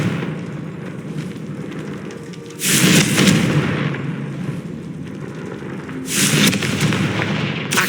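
Confringo blasting spell in Hogwarts Legacy, two loud fiery explosions a few seconds apart, each a sudden roaring burst over an ongoing low ambient rumble of battle.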